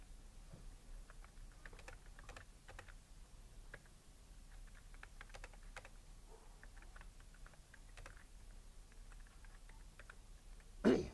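Typing on a computer keyboard during a frame-by-frame animation lesson: a steady run of quiet, light key clicks over about eleven seconds, with one louder click or thump at the very end and no talking.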